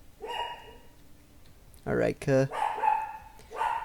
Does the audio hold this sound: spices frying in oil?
no